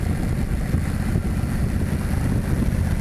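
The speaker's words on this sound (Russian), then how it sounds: "о том, с какими оборотами мы едем, можно судить либо по звуку выхлопа, либо по вибрации, которую ты чувствуешь" A Honda VTX1300 motorcycle on the road, its engine and exhaust giving a steady low rumble mixed with heavy wind rush, continuous and unchanging throughout with no talking.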